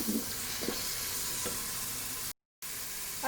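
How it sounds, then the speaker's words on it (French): Food browning in a Cookeo multicooker pot, a steady soft sizzle with a few faint stirring scrapes, close and even, briefly cutting to silence before resuming, with no voices. "On va faire revenir pendant 2-3 minutes."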